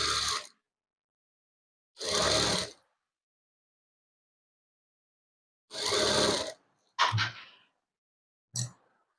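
Short bursts of a sewing machine stitching a rounded seam on designer trousers, several runs separated by silence, the last ones brief and choppy.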